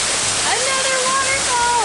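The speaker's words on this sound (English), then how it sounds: "Another waterfall!" A Mexican waterfall pours in a loud, steady broadband roar, close by and continuous, while a person talks over the rushing water.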